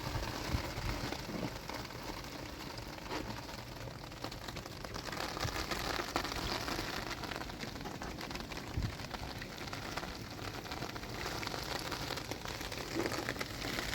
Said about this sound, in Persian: الان داره بارون میباره ولی داشت برف میباره.